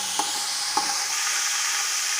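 Garlic and ginger paste browning in a hot pan, a steady close sizzle with two sharp scrapes of a spoon stirring near the start and no talk.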